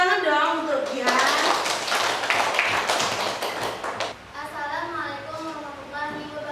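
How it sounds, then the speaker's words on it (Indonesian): Classmates clap for a student in a school classroom, a burst of dense hand claps lasting a few seconds alongside children's voices talking before and after. "Tepuk tangan dong untuk Jihan."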